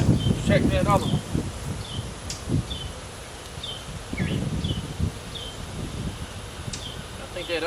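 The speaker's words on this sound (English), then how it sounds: "That's a good bit of bees covering that brood there." Bees buzz around an open hive holding brood, a dense close hum under occasional rustling and frame handling, with a person speaking intermittently over it.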